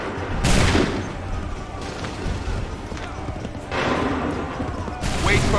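Volleys of musket fire crack out in Assassin's Creed 3, with sharp broadband bursts near the start, around the middle and at the end, mixed with hoofbeats and battlefield noise while voices shout orders.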